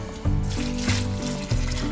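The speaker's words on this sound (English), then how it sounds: "We'll add some water." Water is poured into a slow-cooker pot of borracho beans with tomatoes, a close splashing flow with a few uneven surges, heard alone without talk.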